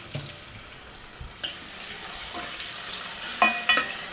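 Chicken curry ingredients fry in oil in a pan, a soft steady sizzle with a few sharp clinks and scrapes of a spoon stirring. A voice speaks briefly near the start.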